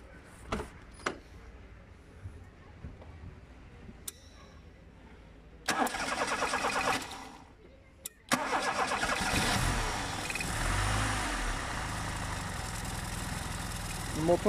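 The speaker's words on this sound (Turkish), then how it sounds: "Motor soğuk olduğu için sarsıntılı çalışıyor." A cold Tofaş Şahin engine cranks after faint clicks, catches, then settles into a rough, shaky idle that runs loud and steady to the end.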